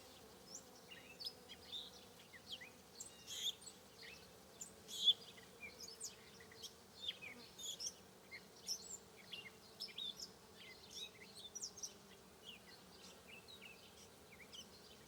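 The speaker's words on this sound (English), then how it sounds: "That's the sound of the bee roar." Bees buzzing outdoors near a garden birdhouse, a low steady hum with scattered bird chirps and tweets above it, faint and continuous.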